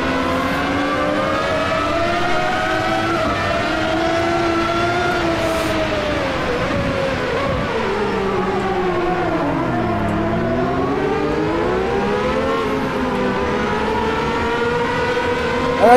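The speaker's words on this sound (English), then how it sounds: "Cars swapping around in front of us." Race cars on slicks circle a rain-soaked Silverstone in the sim racing game Automobilista 2, engines droning loudly and continuously as their pitch sweeps down and back up through gear changes, with no voices.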